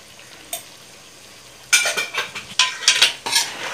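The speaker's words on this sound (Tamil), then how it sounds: "நல்லா மிக்ஸ் பண்ணி" Masala being stirred into a Kerala-style mango pickle in a metal pan: a spoon scrapes and clinks in quick bursts, faint at first and then a rapid series of close, bright scrapes with no voices.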